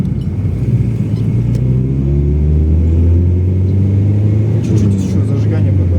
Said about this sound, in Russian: Вот единственное, тарабанит гидрики.